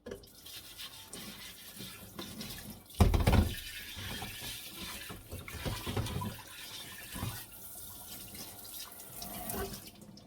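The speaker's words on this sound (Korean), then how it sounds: "요 부드러운 스펀지 같은 걸로 씻는 게 좋아요." An unglazed earthenware water jar scrubbed with a soft sponge under a running tap, with steady water flow and soft rubbing and splashing, close and quiet with no talk.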